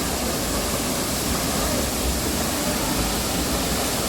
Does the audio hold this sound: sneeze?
no